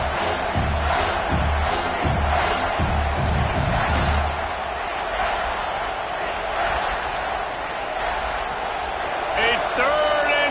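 A crowd in a college football video game, South Carolina vs SMU, roars and cheers on third and goal, loud surging stadium noise with rhythmic stomps early on, continuing as a steady roar.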